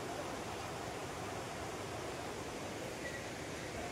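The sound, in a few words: flowing stream, Sheetal Nala at Parasnath Hill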